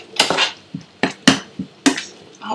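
A spoon knocks and scrapes in a pan while prawn vindaloo is stirred, five or six sharp metallic clinks in an uneven rhythm, close and fairly loud.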